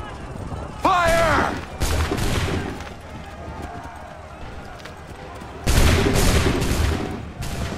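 Musket volleys in Assassin's Creed 3 crack out as loud, sharp bursts of gunfire, two main volleys separated by a few seconds, with a shouted command and battle noise in between.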